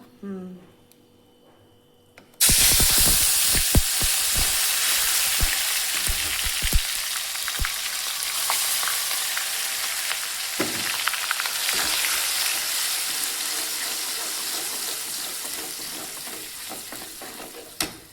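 Ground masala drops into hot mustard oil in a kadai and bursts into a loud, sudden sizzle after a quiet start. The close, steady hiss carries scattered pops and stirring scrapes, then eases slightly over time.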